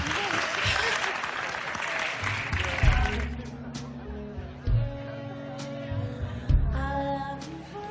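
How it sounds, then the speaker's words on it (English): A crowd applauds loudly for a couple, dense clapping for the first few seconds before fading under people talking close by. "please, an applause for William and Elise"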